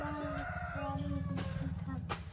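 Backyard chickens cluck nearby in a continuous pulsing murmur, and a few sharper calls and tones stand out above it.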